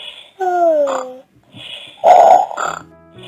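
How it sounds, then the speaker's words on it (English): Cartoon-style snoring from Peppa Pig, George, Grandpa Pig and Granny Pig asleep on a sofa in a read-aloud Peppa Pig storybook: two drawn-out snore rounds, the second louder and rougher, each with a whistly tail. "Peppa, George, Grandpa Pig and Granny Pig are all snoring on the sofa."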